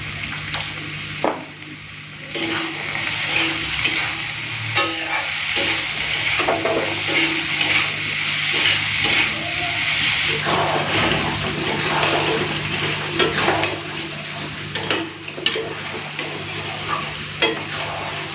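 Bitter gourd and potato pieces frying in hot oil, a loud continuous close sizzle with intermittent stirring and scraping, no one speaking.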